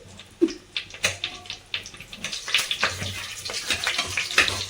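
Water poured into a small pressure cooker for homemade biryani splashes in uneven gushes and sloshes, close and moderately loud, with scattered clinks and no talk.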